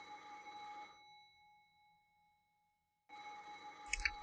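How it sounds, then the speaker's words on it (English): A telephone rings in the visual novel Umineko, a bright electronic trill that sounds for about a second, stops for a long pause, then rings again before a sharp thump at the end. "Natsuhi sprang awake at the sudden sound of the phone"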